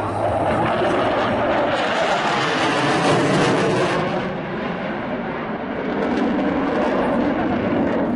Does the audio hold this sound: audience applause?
no